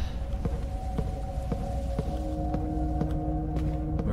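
An in-game heartbeat monitor from the horror game Tormented Souls beeps at a steady, regular pace, roughly twice a second, over a low hum in the background, with no speech.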